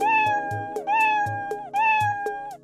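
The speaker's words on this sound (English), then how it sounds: "Specifically, what if we want Scratch the cat to meow any number of times whenever we choose?" Cartoon cat meow effect from the Scratch coding program, played three times in a row: clear, close, evenly spaced electronic meows with no talking.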